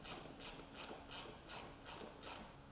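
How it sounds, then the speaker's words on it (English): A ratchet clicks in about seven even bursts while tightening screws and nuts that hold a scene light on a 2024+ Polaris Xpedition XP/ADV roof. It is close and faint, with no talk. "Use 2 screws, nuts, and washers to attach the light. Torque to specification."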